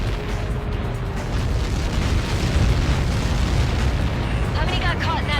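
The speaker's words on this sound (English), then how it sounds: "How many got caught in that explosion?" A huge explosion from Helios projectile impact in the air-combat game Ace Combat 7 rumbles loud and sustained, a dense roaring wash with faint radio chatter-like tones near the end.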